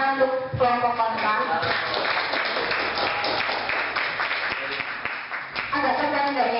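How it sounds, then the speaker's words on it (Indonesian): Audience applause for the opposing team at a school debate, a steady wash of clapping lasting several seconds with voices mixed in and louder bursts near the start and end. "beri tepuk tangan untuk kelompok kontra"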